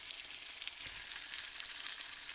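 Two chopped medium fresh tomatoes hit a hot pan for chicken karahi, giving a steady bright sizzle and hiss throughout. One soft thump of the pieces landing sits near the start.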